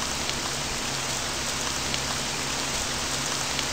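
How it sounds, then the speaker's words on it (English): Heavy rain falls in a video game, a dense, loud, unbroken hiss of drops hitting surfaces with no talk over it. "Sure is raining pretty good out here."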